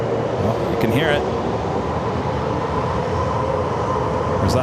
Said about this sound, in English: I think that was a train.